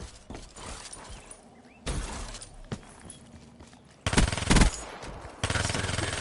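Bursts of gunfire from the Vesper in a Call of Duty game, with short volleys and sharp shots recurring at close range, the loudest rapid bursts near the end.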